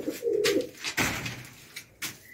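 Pigeons coo softly in a loft, one low, throaty coo early on, joined by a few brief knocks and rustles nearby.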